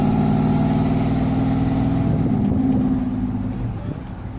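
A Ford F-150 truck with an aftermarket exhaust pipe idles in a deep, steady rumble close by, with a little wind noise, fading slightly toward the end.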